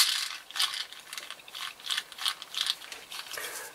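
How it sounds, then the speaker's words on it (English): Lego spur gears turn with a rapid, light plastic clicking and rattling, a steady run of close ratchet-like ticks with no voices. "the input spins at a much faster RPM, revolutions per minute, than does the output."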